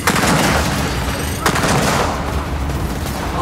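Sniper gunfire in the video game Gears of War 4: loud, dense volleys of shots and booming impacts crowd together over a few seconds.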